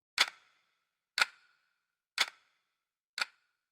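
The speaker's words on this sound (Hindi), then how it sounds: "सिर्फ दीवार पर लगी घड़ी की आवाज" A wall clock in a silent room at night gives four sharp, evenly spaced ticks about one second apart, crisp and close, with dead silence between them.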